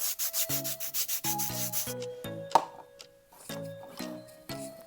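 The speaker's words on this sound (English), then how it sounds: "that sound from the nail file." A nail file rasps against a plastic bottle in quick repeated strokes, a rhythmic scratchy rubbing heard close and fairly quiet, with a short pause midway before the strokes resume.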